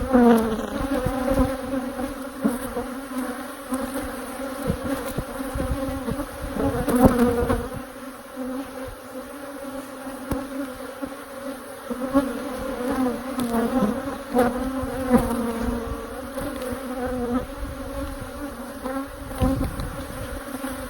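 Bees swarm and buzz around an opened beehive during a hive inspection, a dense steady drone close by that swells and fades for the whole stretch.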